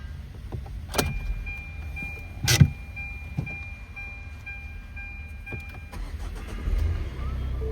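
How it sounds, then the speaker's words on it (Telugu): A 2023 Tata Altroz XZ 1.5L diesel engine starting and idling, with a few sharp mechanical clunks and a low steady hum throughout, no talking. "చాలా smooth and silent engine position ఉంది."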